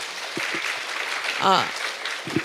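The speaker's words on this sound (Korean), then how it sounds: "교수님한테 일단은 박수 한번 부탁드리겠습니다" Audience applause for a professor after a long talk at a parents' concert on the high school credit system, a steady wash of clapping with brief speech fragments over it.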